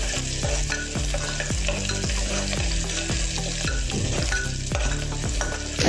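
Minced garlic and ginger frying in oil in a pan for a spinach and eggplant dal, with a steady close sizzle under loud rhythmic stirring and scraping, no voices.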